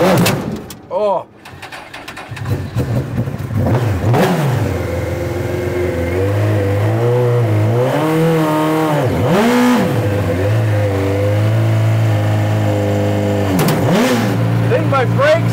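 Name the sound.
motorcycle-powered LeMons race car engine revving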